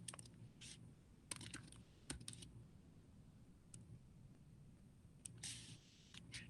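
Sparse keystrokes on a computer keyboard during a web search in Google Slides, quiet scattered clicks in short bursts with pauses between them, close up against a low room hum.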